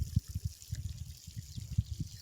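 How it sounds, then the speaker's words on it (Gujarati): Irrigation water runs into a cotton field at dawn, a faint close trickle and gurgle with soft uneven splashes and pulses, quiet and without talk. "અહીંયાથી પાણી પણ ચાલુ થઈ ગયું છે."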